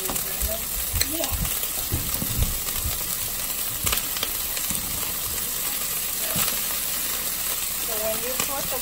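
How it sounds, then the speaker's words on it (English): Broccoli is tossed into a hot stir-fry pan of vegetables with a steady close sizzle, a few utensil clicks and scraping knocks, and voices speaking softly under the frying. "And now I'm gonna add the broccoli."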